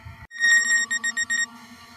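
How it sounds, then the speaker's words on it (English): A SJRC F22S drone with optical obstacle avoidance emits a loud series of high electronic beeps, first a sustained tone and then about five short evenly spaced pulses, with no talking. "Now it's beeping."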